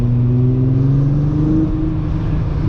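A Volkswagen MK3 with a VR6 engine drives along, its steady smooth drone holding loud and close with a slowly rising pitch as it pulls.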